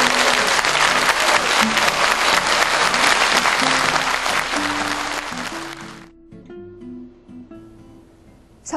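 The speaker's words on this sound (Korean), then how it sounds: "한번 박수." Audience applauding after a lecture, a full, loud burst of clapping over a musical backing that fades out, leaving only the music.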